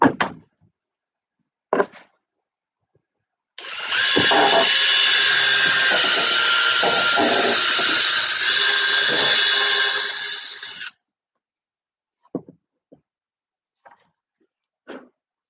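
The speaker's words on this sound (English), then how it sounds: "Change the drill bits here real quick, make the hole a little bigger here." A power drill bores out a hole in a Sig Kougar model airplane fuselage, one sustained whirring run of about seven seconds, loud and close, framed by short knocks and clicks before and after.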